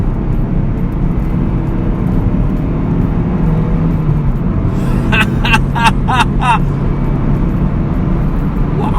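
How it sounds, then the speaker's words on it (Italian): Steady low engine rumble from an idling Opel Astra GTC with a 1.6-litre 115 hp engine runs throughout, with a few brief higher-pitched mechanical chirps near the middle. "Anche il sound di questa macchina è molto buono, da ferma fa quel leggero borbottio"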